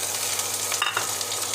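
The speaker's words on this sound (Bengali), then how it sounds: "দেখো পেঁয়াজগুলোকে আমি এইভাবে ভেজে নিয়েছি।" Chopped onion and green chillies fry in hot oil with a dense, loud, close sizzle and hiss that stays steady through a brief moment, with no speech.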